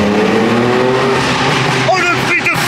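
A 912-horsepower all-wheel-drive BMW M3 accelerates hard with a loud, sustained engine roar that rises briefly near the end, while people talk and exclaim over it.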